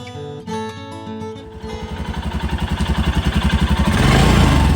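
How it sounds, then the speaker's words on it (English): A Royal Enfield Himalayan 400 ABS motorcycle from 2021, a Euro 5 model, idles and then builds into a steady, pulsing thump that grows louder as the engine picks up revs close by. "this is a Royal Enfield Himalayan 400"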